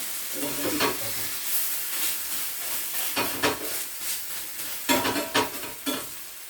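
Rava vegetable uthappam cooks on a hot pan with a soft, continuous sizzle. Several bursts of scraping and stirring from a spatula stand out as it is turned and pressed. The sound is close and moderately loud, with no speech.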